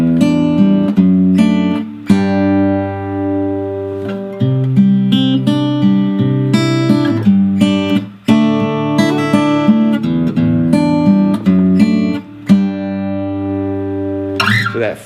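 Guitar playing the intro riff of a song: clear, close plucked notes ringing in a repeating arpeggiated pattern, loud and alone, with brief gaps where phrases restart.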